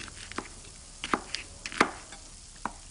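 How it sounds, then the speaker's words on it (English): A knife chops a chilli on a board in a home kitchen, giving about half a dozen crisp, irregular taps that sit close and fairly soft over quiet room tone. "Chop the chilli."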